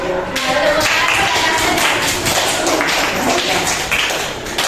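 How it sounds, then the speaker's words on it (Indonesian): A small group in an Indonesian classroom coaching session claps hands, a loud, close burst of uneven claps that carries on for several seconds with a few heavier taps mixed in. "Tepuk tangan."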